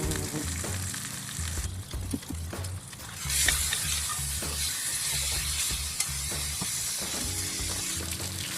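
Steak frying in a pan for a medium-rare cook gives a steady close sizzle with crackling pops, alone and without talk, swelling a little partway through.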